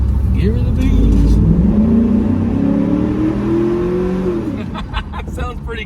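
A 2004 Chevrolet SSR's engine revs up and holds at high revs before dropping back, loud and close, with faint voices at the start and end.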